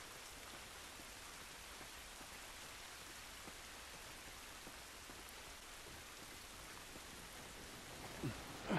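Steady rain falls outdoors in The Last of Us, a dense, even hiss of drops on surfaces. It runs continuously and fairly softly with no voices, and a few sharper spatters come near the end.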